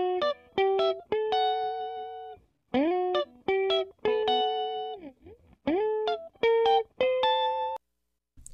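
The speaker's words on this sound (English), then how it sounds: "take a listen to this little melodic figure on the guitar here" Electric guitar playing a short melodic figure through a tape slap echo and reverb, recorded with a TZ Audio Stellar X2 Vintage condenser microphone; clean plucked notes in short phrases with brief gaps, alone and fairly loud.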